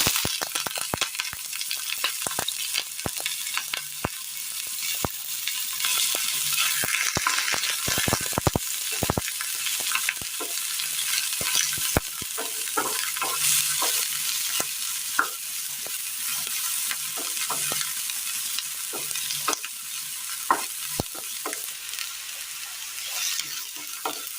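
Onion frying in hot oil in a pan crackles in a continuous sizzle, broken by frequent sharp scrapes and clatters of stirring, close up with no talking.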